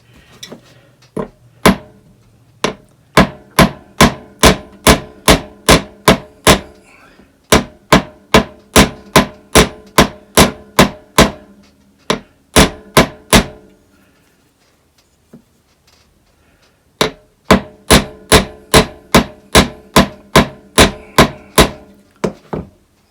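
Wire being hammered to cold forge an eyeless 18th-century style fishhook, sharp metallic strikes coming in fast regular bursts of about ten blows, with short pauses between runs, close and loud.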